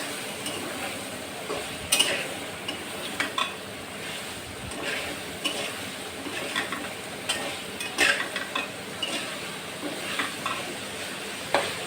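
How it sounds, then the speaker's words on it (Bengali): Drumstick stems and potatoes being sautéed in a pan for a Bengali prawn curry: a low, continuous sizzle with scattered scraping stirs and sharp clinks of a utensil against the pan, close and moderately quiet. "ডাটা আলুটা দিয়ে সুন্দর করে কষাইয়ে তারপরে ঝোল দেবো"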